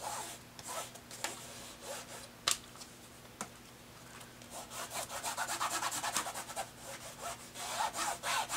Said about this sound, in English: I'm just going to flip it over and give it a good burnish